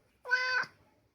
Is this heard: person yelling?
no